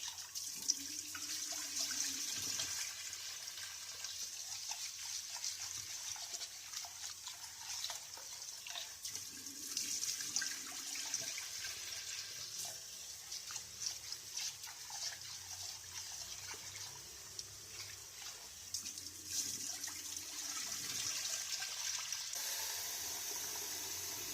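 Lentils being rinsed under a running kitchen tap before making lentil soup, a steady continuous stream of water splashing into a sink throughout, with small clinks and swishes of handling.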